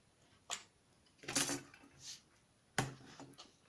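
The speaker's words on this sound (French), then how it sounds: "je vois qu'il reste encore un petit peu de ficelle, donc je vais couper" Scissors snipping leftover string while a gift box is being made, a few short, quiet, sharp clicks spaced apart in a near-silent room.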